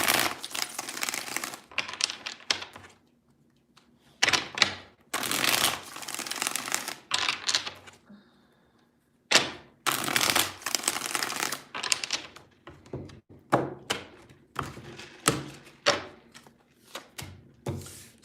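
Tarot cards being shuffled by hand in three quiet rounds of riffling and tapping, with short gaps of near silence between them.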